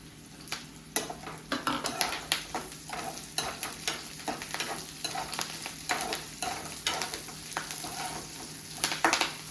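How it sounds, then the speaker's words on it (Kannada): Chopped green chillies fry and crackle in hot oil in a pan, with a steady sizzle and frequent stirring scrapes and clinks close by, no voices. "ನೆಕ್ಸ್ಟ್ ಇದಕ್ಕೆ ನಾನು ಹೆಚ್ಚಿಟ್ಟಿರೋಂಥ ಒಂದು 3 ಮೆಣಸಿನ್ಕಾಯಿ ಹಾಕ್ತಾ ಇದ್ದೀನಿ."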